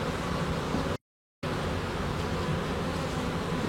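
An irritated honeybee colony buzzes in a dense, continuous drone close by, broken once by a brief total dropout before the buzzing resumes unchanged.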